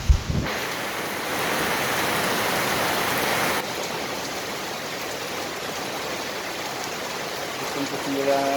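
Steady rain falls during the rainy season at an outdoor barbecue spot, a dense continuous hiss that swells louder for a few seconds before settling into an even downpour.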